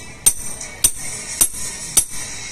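A hammer strikes the wheel spline of a Yamaha Mio motorcycle four times, sharp metallic clanks spaced about half a second apart, close and loud, with no talk between the blows.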